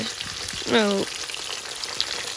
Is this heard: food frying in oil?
yes